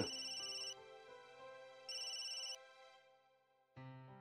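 A telephone ringtone plays in repeated electronic bursts, loud and close, with short pauses between rings and no voices.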